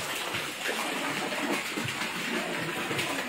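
Hot spring water comes down from the mountain and runs through a channel into a pool at a resort, a continuous close rushing gush with no talking.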